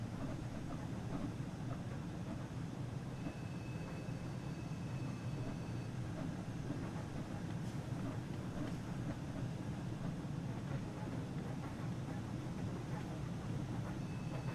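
A Class 323 electric train from the Birmingham route runs in Train Sim World 6, a steady, fairly quiet rumble and drone that continues evenly throughout.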